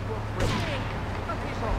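Gunfire in Grand Theft Auto III, a short loud burst of shots over steady game background noise.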